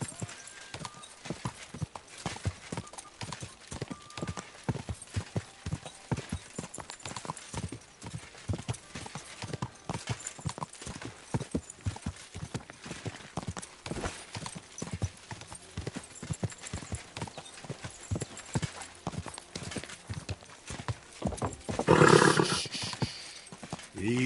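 Rapid clip-clopping of horse hooves at a steady gallop in the video game Kingdom Come: Deliverance II, with a loud roaring burst near the end and occasional faint voices.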